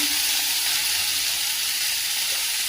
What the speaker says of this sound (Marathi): थोडस तेल टाकून घ्यायचंय पालक छान असं परतून घ्यायचा आहे